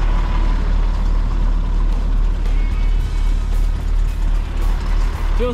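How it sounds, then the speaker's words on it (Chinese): A snow removal vehicle in Hokkaido blowing snow into a truck, a loud, continuous heavy engine rumble close by with a steady whooshing blower and brief faint tones. "然后把这个雪啊喷到这个卡车上面，就可以把这个雪清走了"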